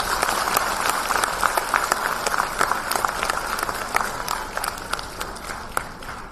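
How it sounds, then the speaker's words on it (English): An audience claps steadily through a school annual day show, a dense, moderately loud patter of many hands with a few sharper individual claps standing out, holding at an even level throughout. "I think they all need a big round of applause."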